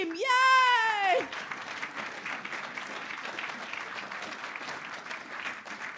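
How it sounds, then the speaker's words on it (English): An audience at a NetHui 2018 panel event in Manawatu breaks into steady, dense applause. A brief cheer or shout opens it, and the clapping then carries on evenly at moderate volume to the end. "Clap for them."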